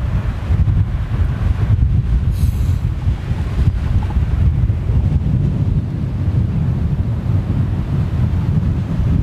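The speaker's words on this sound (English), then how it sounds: "So it's almost a direct headwind at the moment" A strong headwind at an airport buffets the microphone, making a steady, loud, low rumbling roar that runs unbroken through the whole stretch with no voices.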